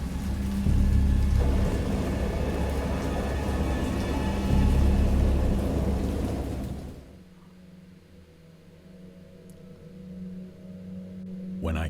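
Heavy rain and rolling thunder from the game Dagon, a loud dense wash with low rumbles for about seven seconds, then dropping abruptly to a quieter, muffled ambience with faint rumble.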